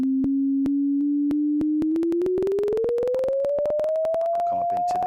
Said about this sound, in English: So here's 20 hertz all the way down. As we sweep up, you can hear that frequency getting higher.